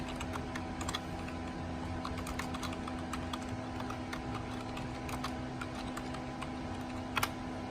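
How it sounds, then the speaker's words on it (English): Names being typed on a computer keyboard, with faint, steady key clicks running throughout over a constant background hum, and one slightly louder tap near the end. "we're going to type in all those names of those people"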